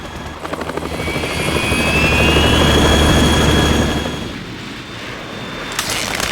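A Harrier jet attacking in the Metal Gear Solid 2 video game, a loud roaring whoosh of engine noise that swells and then fades, with rumbling blasts and no talking.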